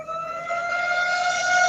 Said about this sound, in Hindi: सायरन बज रहा है अभी भी।